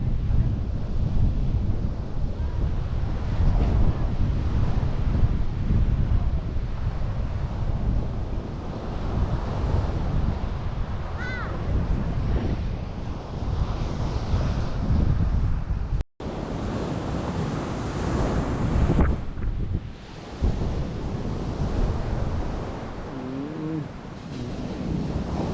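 Surf rolls steadily onto White Beach at Puerto Galera, a continuous loud wash of breaking waves with wind buffeting the microphone throughout and a brief cut midway.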